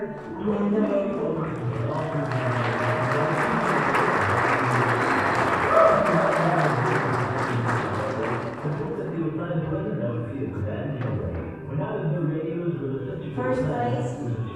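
An audience at a broadcasters' convention awards ceremony claps and cheers for a winner, a dense, steady burst that swells and then thins out as voices and scattered claps continue.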